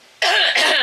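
One sharp, harsh cough close up, quickly followed by a second cough.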